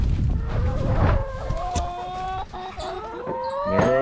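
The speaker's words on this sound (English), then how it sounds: "Hi chickens!" Chickens in a chicken tractor cluck and squawk up close, with several overlapping drawn-out calls and short clucks over a low background rumble, loud and busy throughout.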